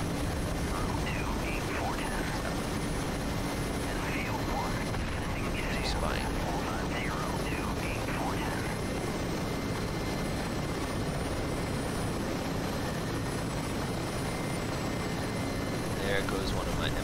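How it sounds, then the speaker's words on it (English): A Mi-8 helicopter's rotor and engine drone loudly and continuously in the DCS World flight simulator, with voices talking over the steady roar. "I see a helicopter on my left."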